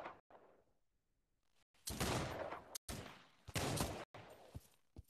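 Gunfire in the VR shooter Pavlov: bursts of rapid automatic shots crackle loudly in clusters after a quiet start, with short pauses between volleys.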